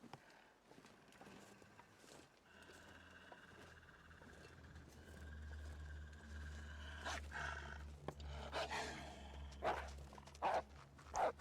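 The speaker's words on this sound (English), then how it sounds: "Not seen a wolf come up this far out before." A wolf in The Long Dark, a low rumbling growl in the Canadian wilderness that builds over several seconds, faint and fairly distant, with footsteps and rustling around it.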